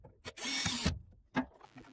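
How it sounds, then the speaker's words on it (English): A nut is tightened onto a bolt holding a ceiling-mounted bracket for a lathe tool organiser, heard as a brief metallic click, a sustained broadband whirring burst of about half a second, then another short clack, close and fairly quiet. "The nut is tightened up,"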